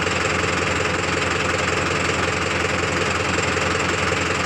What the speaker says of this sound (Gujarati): હવે એ ભાઈનું ટ્રેક્ટર હવે સળવા માંડ્યું છે, તમે જોઈ શકો છો.